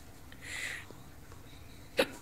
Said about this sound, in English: I still have the hiccups.